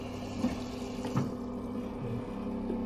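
Carbonated water gushes steadily from a newly installed dispenser, a low bubbly fizz with a couple of soft clicks and gurgles, close and continuous with no talking.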